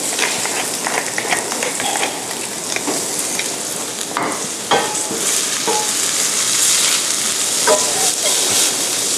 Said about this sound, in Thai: มานี้ผัดให้มันสุกแต่ว่ามีความกรอบอยู่เราผัดไฟแรงอย่างเร็วนะครับ